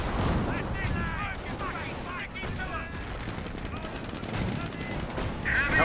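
Artillery and gunfire from the real-time strategy game Company of Heroes, a WWII battle between British and Panzer Elite forces, run as a dense, steady barrage of blasts and shots with a voice talking over it.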